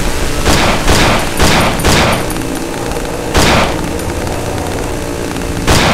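Gunfire in the horror game Cry of Fear: a quick run of four loud close shots, a pause, then another single blast and a last one near the end, each with a booming tail.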